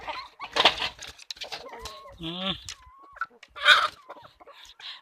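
Country chickens on a forest farm cluck and squawk in several close, uneven bursts, one drawn-out warbling call in the middle, with quieter rustling between them.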